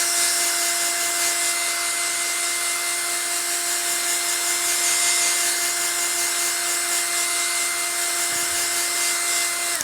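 A hair dryer blows on a watercolour painting with a steady, loud, close whine that runs unbroken throughout and briefly dips near the end.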